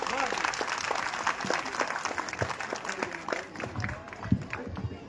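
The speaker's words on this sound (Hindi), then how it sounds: "अगर प्रस्तुति पसंद आई हो तो तालियां बजाइए" An audience claps after a children's cultural performance at a program attended by an MLA, a lively crowd of hands with scattered sharper claps, while a voice talks over it.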